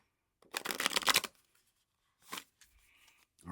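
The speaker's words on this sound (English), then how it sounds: "It's a very large deck, Virgo. It's hard to shuffle." Rapid riffling of a large tarot deck being shuffled, a dense burst of papery flutter followed by a shorter second riffle and soft card handling, close and loud with no talk.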